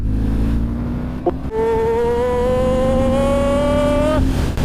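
A steady BMW R12 G/S motorcycle engine drone holding a constant pitch in fourth gear at about 60, with a brief shift in tone early on, loud and close.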